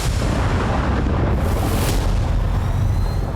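A continuous deep rumbling roar of ballistic missile blasts in Israel, loud and dense, with heavy low-end booms rolling on without pause.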